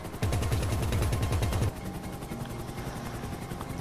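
Rapid automatic gunfire in GTA Online, a loud burst of evenly spaced shots that stops abruptly after about a second and a half, leaving a steady engine-like drone underneath.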